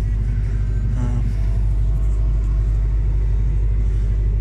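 A tuned 315bhp Subaru Forester 2.5XT engine runs with a steady, deep rumble, close up and loud with no change in pace.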